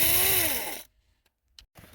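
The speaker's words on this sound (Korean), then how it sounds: "십자 볼트 하나 풀어줍니다." A Phillips screw is backed out of a Kia Forte dashboard: a short, close whirring burst that stops, followed by near silence and a couple of faint clicks and handling noises.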